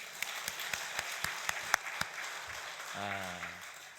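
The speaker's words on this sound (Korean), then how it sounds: "다시 한번 박수 좀 쳐주세요" A church congregation claps in a quick, even rhythm of sharp, distinct claps for a couple who were baptized before marrying. A voice begins speaking near the end.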